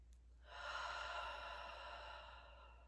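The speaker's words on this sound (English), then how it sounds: "Let's take a breath." A single long, deep breath taken during a guided meditation, a soft airy rush that swells and then holds steady for a couple of seconds, close and quiet, with no talk.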